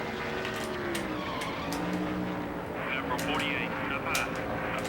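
NASCAR stock car engines roaring and tires squealing at Darlington in the Nascar Thunder 2003 racing game, a continuous loud drone with sharp screeches, with someone talking over it.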